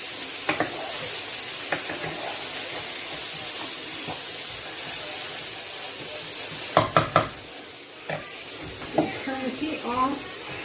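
Chili lime fish frying in a hot pan keeps up a steady sizzle and hiss while it is stirred, with sharp scraping clacks from the utensil near the end and a few brief voice sounds.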